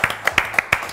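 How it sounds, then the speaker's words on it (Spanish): A handful of sharp, separate hand claps from an audience, about five quick strikes spread unevenly across one second, close and moderately loud, with no talk. "Fuerte aplauso para Bruno, señor."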